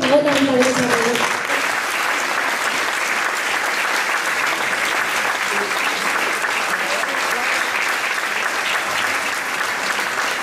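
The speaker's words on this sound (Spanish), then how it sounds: "Con un aplauso." Concert audience applauding after a piano-accompanied song arrangement, dense continuous clapping that stays loud and even throughout, with a voice briefly audible at the start.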